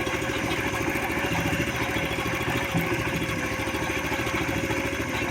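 A Motor Sich walk-behind tractor engine runs nearby at a steady rapid chug, an even, unbroken mechanical drone with no voices.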